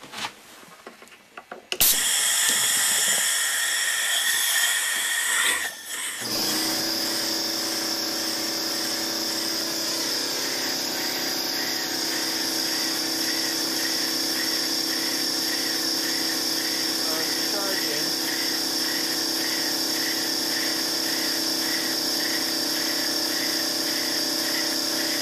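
A Lynx steam emergency generator engine runs steadily and fairly slowly, a continuous mechanical hiss and hum with a faint rhythmic pulse, starting after a few seconds of quiet and holding loud and close to the end.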